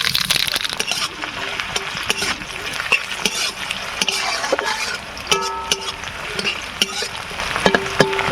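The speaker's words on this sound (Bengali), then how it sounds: "প্রায় পেঁয়াজটা ভাজা হয়ে এসছে।" Sliced onions fry in white oil tempered with nigella seeds while a spoon stirs and scrapes them, giving a loud continuous sizzle with clinks and knocks against the pan.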